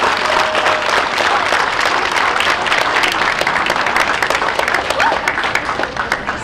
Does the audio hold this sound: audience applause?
yes